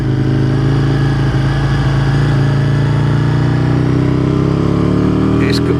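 An Aprilia motorcycle engine idles close by, loud and steady with a throbbing low hum, and a voice is partly heard over it.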